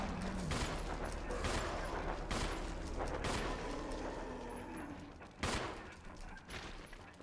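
Rapid bursts of gunfire from the video game Resident Evil crack out in several sharp volleys against a busy game soundtrack, with a brief voice at times.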